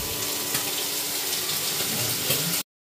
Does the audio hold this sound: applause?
no